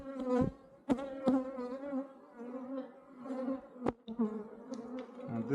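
Honeybees buzzing around an opened hive during a first spring inspection, a steady close drone with individual bees passing near and a few sharp knocks of handling.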